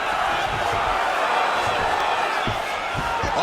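Virtual arena crowd in the EA Sports UFC 5 fighting game, a loud sustained roar of cheering and shouting filling the clip without a break.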